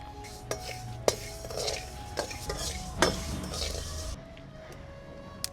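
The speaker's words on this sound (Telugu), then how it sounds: "బాండీ ఏడెక్కింది, మెంతులు వేపుకుందాం." Fenugreek seeds are roasted dry in a hot pan, with a spoon scraping and clinking against the metal in irregular taps over a faint low hiss.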